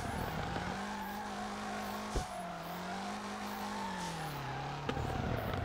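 A car in the FR Legends driving game drifts through roundabouts, its engine droning and wavering in pitch while tyres squeal continuously, with a couple of sharp ticks partway through.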